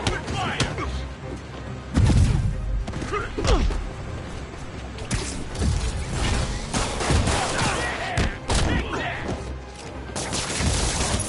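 Gunfire erupts in the Marvel's Spider-Man video game: bursts of shots, heavy thumps and impacts recur across the scene amid game sound effects, while voices shout over the action.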